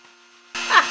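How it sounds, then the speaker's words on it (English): A mounted Dremel rotary tool cutting the sides of a wooden box: a faint hum gives way midway to a loud, abrupt whining grind that swells briefly and then holds. "Now I have a Dremel tool mounted"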